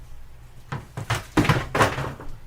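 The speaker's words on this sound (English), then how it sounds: "just knocked the lid off the garbage can" A garbage can lid gets knocked off in a home kitchen, giving several hollow thunks and clatters over a couple of seconds as it bangs and settles, close and fairly loud.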